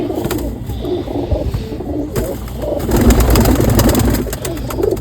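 Pigeons coo repeatedly nearby, soft throaty calls overlapping in a steady rhythm with some rustling in the background.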